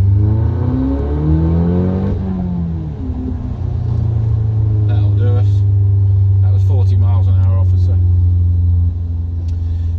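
Audi TTS on fresh Michelin Pilot Sport tyres accelerating hard along a straight road, its engine revving up through the gears in a loud, steady in-cabin drone with brief shift dips, while a person talks over it.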